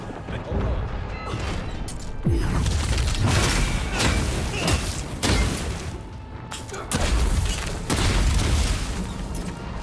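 Shock grenades going off in Avowed combat, a run of booming blasts and crackling impacts over dense, continuous battle noise, with heavy hits recurring every couple of seconds.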